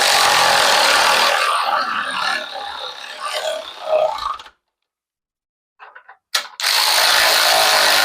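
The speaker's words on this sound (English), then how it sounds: "we can go ahead and get these two bolts tightened up" A ratchet tightens steering box bolts up close, its rapid clicking buzz running for several seconds, then a pause and a short clank before the ratcheting resumes.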